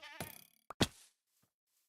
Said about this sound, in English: I think a goat might run away.